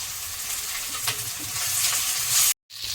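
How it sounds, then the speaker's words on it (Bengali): Onion, garlic, ginger and green chilli sizzle steadily in hot oil in a kadai, a continuous close frying hiss with faint stirring scrapes, broken by a brief dropout near the end. "এখন তেল দিয়ে দিয়েছি কড়াতে আমি পেঁয়াজ দিয়ে দেবো দিয়ে দেবো রসুন দিয়ে দেবো আদা দিয়ে দেবো কাঁচা লঙ্কা"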